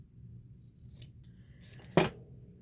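Scissors snip through basket-pattern fabric in one sharp, close cut, with faint rustling of material being handled before it and a quiet room underneath.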